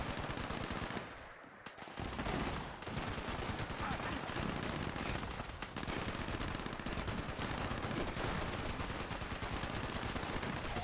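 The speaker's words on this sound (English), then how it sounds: "Calls for the Gatling laser." Gatling laser firing in Fallout 76, a dense sustained rapid stream of loud energy-weapon bursts with a short lull near the start before the barrage resumes.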